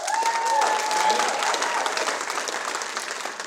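Audience applause from a crowd at a youth leadership awards event, a dense sustained clatter of clapping that fades slightly toward the end, with a faint whistle near the start.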